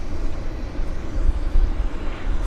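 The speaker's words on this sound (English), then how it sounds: "It's heading to Winnipeg, this aircraft, it's a MAX" A WestJet Boeing 737 MAX airliner departing Vancouver Airport gives a steady, distant engine rumble that stays low and even throughout, with no talk.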